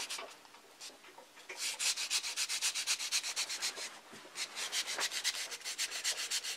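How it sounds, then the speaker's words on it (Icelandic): Hand sanding of a wooden part for a model airplane build, done with sandpaper: rhythmic rasping back-and-forth strokes, close and steady, quicker and louder after a quieter start, with no voices. "Nú bara pússa ég þangað til að hornin sem ég var búinn að hefla á fara."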